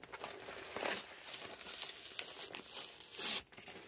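A taped plastic priority mailing bag is ripped open, with close crinkling and tearing plastic in uneven bursts, ending in one louder rip, with no talking.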